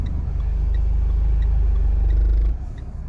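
A driving-test car reverses slowly into a parking space, a steady low engine rumble close and continuous, dropping off abruptly near the end as the engine note eases.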